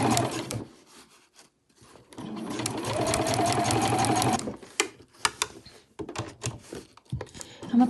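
A sewing machine stitches piping onto a cushion cover in a fast whirring run, then stops, followed by a series of short bursts and clicks.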